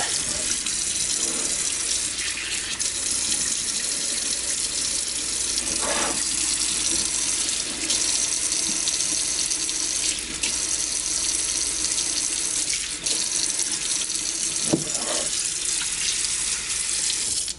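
A kitchen tap runs steadily into a sink while beef ribs are washed under it, a loud continuous hiss and splash with occasional thumps and shifts as the meat is handled.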